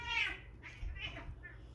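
Cats meow several times in a quiet room, close and fairly clear, with soft rumbling household noise underneath and no talking.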